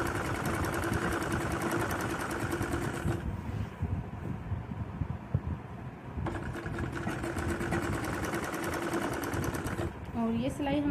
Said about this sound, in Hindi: और ये सिलाई हम नीचे बॉटम तक इसी तरीके से लगाएंगे